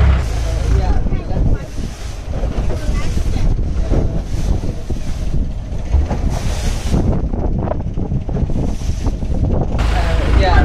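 A boat rides a choppy, wave-filled river in Bangkok as rain falls, giving a loud, continuous rush of wind, water and rain with constant buffeting and no clear talking.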